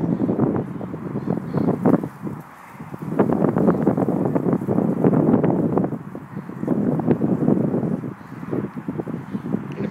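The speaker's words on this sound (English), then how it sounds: "The wind's blowing from Louis." Steady outdoor wind by the water while a small cardboard and cling film model boat is sailed, a loud continuous rumbling buffet on the microphone that swells and dips, with no talk.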